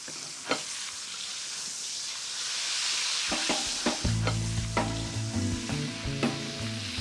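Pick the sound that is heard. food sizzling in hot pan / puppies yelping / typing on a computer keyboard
food sizzling in hot pan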